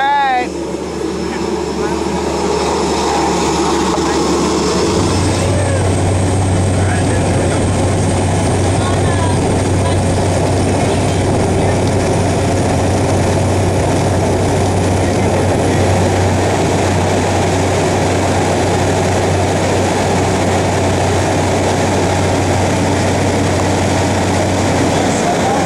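Loud, steady engine drone inside the cabin of a small airplane before a skydive, a constant roar filling the whole stretch with a low hum, while people talk over it.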